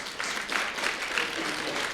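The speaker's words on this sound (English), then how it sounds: "Round of applause for Mark, please." Brief applause from a symposium audience for a speaker, a short burst of clustered clapping at moderate volume.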